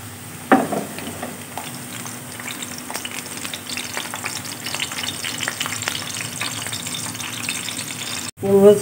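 Garlic sizzles in hot oil in a pan as it browns, a continuous crackling fry with scraping stirs near the start and a sharp clatter at the end; no one speaks.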